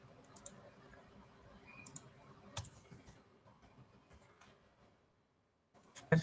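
Faint, sparse computer mouse clicks in a quiet room, with a few isolated sharp clicks and some closer clicks at the very end.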